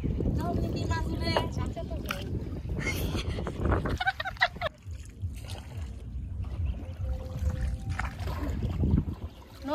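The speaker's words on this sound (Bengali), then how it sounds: "নৌকা চালাইতে আমার কাছে বরাবরই খুব ভালো লাগে" A wooden rowboat moves across a village wetland, with soft water swishes and paddle dips under steady wind noise, and someone talks over it throughout.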